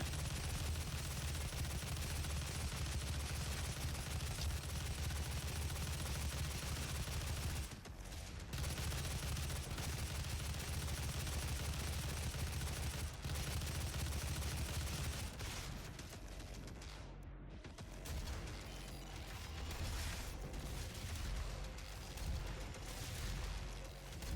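Gunfire from the 2016 Doom video game, a sustained rapid burst of shots lasting many seconds with brief breaks, fairly quiet overall and heard without any talking.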